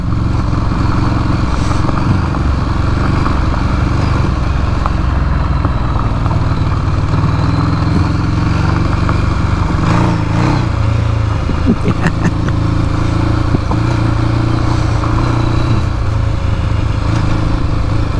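A motorcycle is ridden on a gravel road between Lillooet and Clearwater, British Columbia. A loud, steady engine drone and rumble continues throughout, with occasional light clatter.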